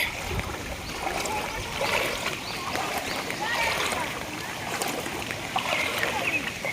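Feet splashing and sloshing through thigh-deep rainwater on a flooded road, continuous watery churning up close with voices talking over it.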